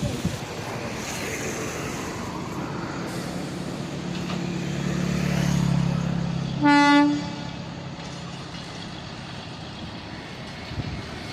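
A train rumbles past on the new Pamban bridge with a steady rolling roar, and a loud horn blast sounds briefly near the end over the continuing rattle.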